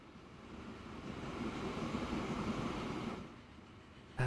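An electric train rolls along in a railway building video game, a steady broad rumble that swells and holds for about three seconds, then drops away, ending with a sharp louder burst.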